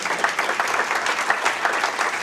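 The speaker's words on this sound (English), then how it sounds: "You can clap for that." An audience at an education summit breaks into sustained applause, a loud, even wash of clapping from a conference crowd with no speech over it.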